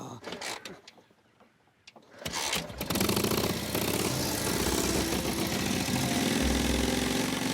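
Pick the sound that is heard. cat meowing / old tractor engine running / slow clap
old tractor engine running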